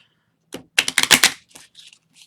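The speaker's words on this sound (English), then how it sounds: "Here, let me do a little quick shuffle here." A quick riffle shuffle of a new deck of game cards from a board game unboxing, with a soft snap, a close burst of rapid flutters, then a few lighter taps as the cards settle, no talk.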